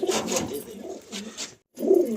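Pigeons of a fancy breed coo softly at close range, a few low, throaty rolling calls in quick succession with a short pause before a final coo.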